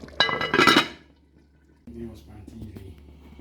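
A lid goes back onto a pot of simmering beef stew with a short burst of bright clinking and clattering, followed by a quieter stretch of low kitchen sounds.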